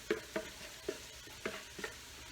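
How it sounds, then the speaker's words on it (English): Cooked beef, celery and green pepper stirred in a soup pot for beef barley soup, a handful of soft scraping clinks and wet sloshes at an uneven rhythm, close and fairly quiet with no talking. "Just give it a quick stir inside of there."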